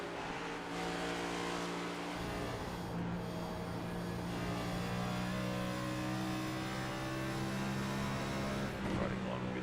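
NASCAR Cup Series race car lapping an oval track, a sustained high engine whine with steady harmonic tone heard from onboard, continuous throughout.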